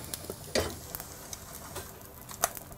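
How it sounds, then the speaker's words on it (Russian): Liver pancake layers frying in a pan give a faint, steady sizzle broken by soft scattered clicks and taps of cooking utensils, quiet and close, with no talking. "главное следить за оладьями, чтобы они у нас пеклись, прогревались, но не подгорали"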